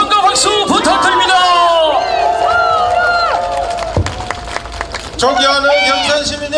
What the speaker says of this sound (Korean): 함성과 박수 부탁드립니다.